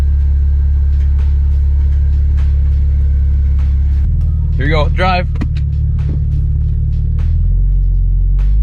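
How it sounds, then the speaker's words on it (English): A rebuilt, formerly blown-up BMW idles and starts rolling under its own power for the first time, a deep steady engine rumble with a shift in tone midway, as people talk excitedly close by. "Car's moving on its own."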